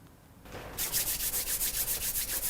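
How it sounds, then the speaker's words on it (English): Two hands rubbing together vigorously to warm them at the start of a qigong routine: a quick, even series of about a dozen close, breathy swishing strokes after a brief soft shuffle, with no talking. "We start by rubbing the hands together vigorously to get them warm"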